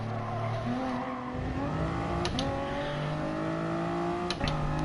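Race car in Gran Turismo Sport braking into a turn: engine pitch steps down through downshifts, with tires squealing and a couple of sharp clicks, close and continuous.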